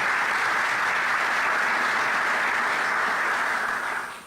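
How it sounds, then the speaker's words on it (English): Loud, sustained applause fills the hall from the audience at a State of the County address, holding steady before tapering off at the very end. "You can clap to that."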